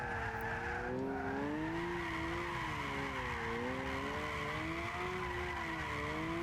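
A Nissan Silvia S14 turbo drift build in Gran Turismo 6 slides with a sustained, wavering tire squeal over a loud engine drone that rises and falls, continuous and close, with no talking.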